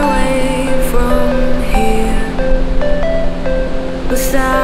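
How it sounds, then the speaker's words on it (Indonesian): Ocean surf rolls in at Seminyak beach in Bali as a steady loud wash of waves, with music playing over it. "Ke air, ke ombak, ombak."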